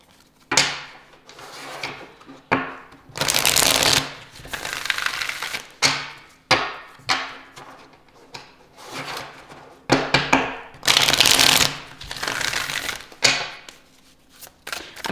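Tarot cards shuffled for a reading: a run of quick riffling and slapping bursts, close and fairly loud, in irregular clusters with short pauses between, no talking.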